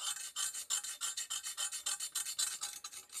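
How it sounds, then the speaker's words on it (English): Rapid back-and-forth scratching across a laser-engraved cut, a quick rhythmic rasp of short strokes repeating about six per second, close and fairly quiet with no talking. "You can hear the scratching with this."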